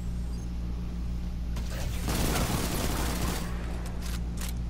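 A rocket launcher fires in Destiny 2 during a solo Legendary Lost Sector boss fight in Exodus Garden 2A, a loud broadband blast and roar swelling midway over steady low game ambience, followed by sharp crackling bursts.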